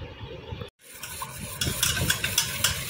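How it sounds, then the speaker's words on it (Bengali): Gondhoraj lemon buttermilk with black salt and cold water is whisked by hand in a bowl, giving a quiet, rhythmic sloshing and scraping that grows busier after a brief pause. "ভালো করে এটাকে ফেটিয়ে নেব। আজকে আমি মিক্সিতে করছি না, হাতেই করছি।"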